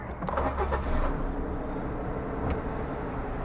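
A 2015 Suzuki Stingray with a 660 cc engine push-starts, a short cranking catch followed by the engine settling into a steady low idle nearby, with no talking.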